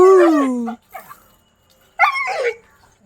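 A tied-up dog barking and whimpering close by: a drawn-out whining yelp, a short faint sound, then two quick sharp barks.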